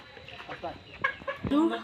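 Farm chickens being handled for Ranikhet vaccination cluck and squawk in short irregular bursts close by, with a louder sharp squawk near the end and some human voice mixed in.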